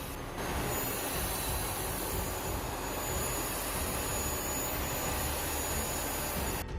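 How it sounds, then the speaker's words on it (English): A Russian jet intercepting a US B-52 bomber over the Black Sea makes a steady, loud, broadband engine roar, as if heard from inside the jet, constant for several seconds before cutting off abruptly. "Russian jet intercepted a US B-52 over the Black Sea."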